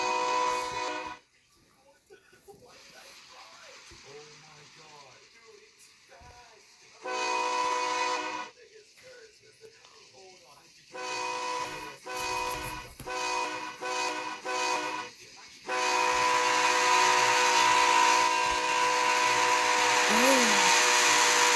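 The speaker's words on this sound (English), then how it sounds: "but here's the train." A BNSF freight train led by a Dash 9 locomotive, with distributed power units, passes close by, its loud horn blasting several times over a steady rumble and clatter of rolling cars.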